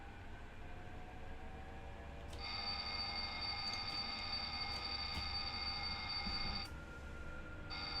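A train in Train Sim World 5 on the Zwolle to Groningen line rumbles steadily while a high, ringing electronic cab tone starts partway through, holds for several seconds, then cuts off.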